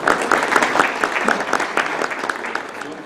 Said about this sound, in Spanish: Un fuerte aplauso para el doctor Alfredo